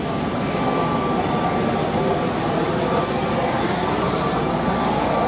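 Private jet engine running steadily nearby on a flight with Antonio Brown to Tennessee, a loud continuous roar with a high whine held throughout, no talk.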